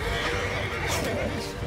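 A horse neighs in the medieval battle game Mount & Blade 2 Bannerlord, heard amid battle noise while someone talks over it.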